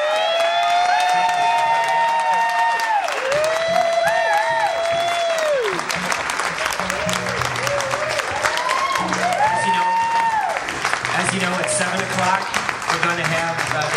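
Audience applause for a singer, a broad wash of clapping that runs throughout, overlaid with sung or tonal voices and music rising and falling above it.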